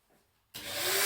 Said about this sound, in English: I'm just going to hoover that bit of ash up there.